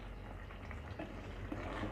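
Ridge gourd (turai) curry cooked without any added water simmers gently in a covered pot over low heat, giving a faint, steady bubbling and hiss throughout with no talking.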